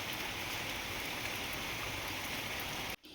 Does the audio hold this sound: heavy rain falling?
yes